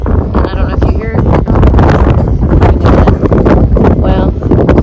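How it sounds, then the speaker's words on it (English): Wind gusts blowing across an outdoor metal-detecting dig site, a steady loud roar that buffets the microphone throughout, with talk running over it. "The weather is windy."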